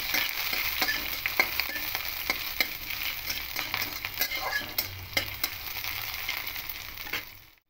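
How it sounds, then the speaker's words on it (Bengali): Onion and dried red chili with a five-spice tempering frying in hot oil for a lentil dish, a steady crackling sizzle throughout with spatula scrapes and light clinks, close and continuous, no talk. "দিয়ে একটু হালকা করে পেঁয়াজ শুকনো লঙ্কা 5 ফোড়নটাকে ভেজে নেব"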